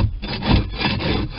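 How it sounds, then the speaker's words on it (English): A sharp-edged scraper works down the hull of a 1997 Stingray 190 LS boat, giving a close, continuous rasping scrape with uneven strokes and no talking. "And that's scraping right down."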